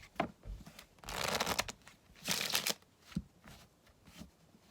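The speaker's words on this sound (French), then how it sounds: "Après ça, je fais un mélange à l'américaine." Playing cards are riffle shuffled in quick bursts, with two longer crisp rippling flutters between soft taps and shuffles of the deck, close and fairly quiet.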